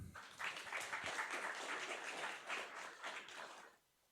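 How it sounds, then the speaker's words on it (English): At a university game jam presentation, the audience applauds a student game team: a continuous burst of clapping that swells quickly, holds steady, then stops abruptly near the end, heard at a moderate distance. "Big round of applause for them."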